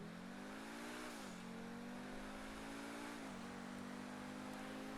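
A Pegassi Zorrusso supercar in GTA 5, fitted with turbos and cold air intakes, drones along with a steady engine tone, shifting pitch down twice as it changes gear, with no one speaking.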